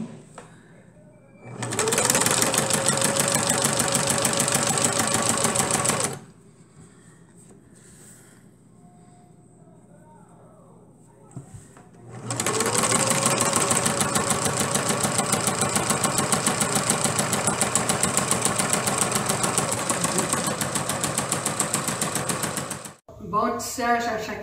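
A sewing machine stitches the hem of a handwoven cotton dish towel in two long, steady mechanical runs separated by a quieter pause with faint handling sounds, close and fairly loud.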